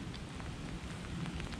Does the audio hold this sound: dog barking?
no